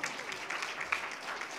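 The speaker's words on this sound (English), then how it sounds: "please put your hands together." Distant, even applause rolls through the audience at the India Brand Icon Awards 2022 ceremony as an actor is welcomed on stage. It stays steady and fairly soft throughout.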